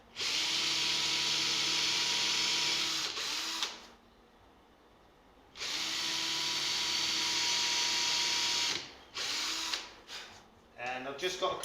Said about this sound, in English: Right, so just drill these holes here.